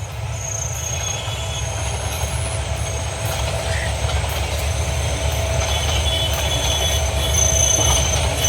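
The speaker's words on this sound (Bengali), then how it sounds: "এই যে আমরা রাত্রে ট্রেন যাইতেছে আর কি" A train rumbles steadily past close by at night, a continuous loud roar of wheels with faint high squeals and a low drone throughout.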